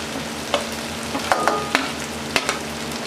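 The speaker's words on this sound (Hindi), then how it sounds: "अच्छे तरीके से फ्राई करेंगे।" Green chillies frying in a pan for an aloo shimla mirch sabzi, with a steady close sizzle broken by several sharp spoon taps and scrapes against the pan.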